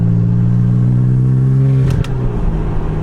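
A BMW F80 M3 with a single mid-pipe exhaust and titanium front-mount intakes revs loudly up close, a steady droning engine note that cuts off sharply near the end and settles back into a lower idle.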